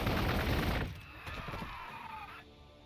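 Burst of dense gunfire in the Warhammer 40,000: Gladius strategy game, loud for the first second and then fading into a softer, scattered rattle of shots and impacts.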